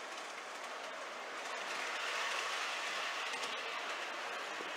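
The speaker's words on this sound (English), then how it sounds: "Go ahead and do some rolling, Matt. We've got 2 trains of some of our larger cars." Larger model railroad cars roll along the track in a steady, dense rumble with faint clicking. The sound holds even and fairly close throughout.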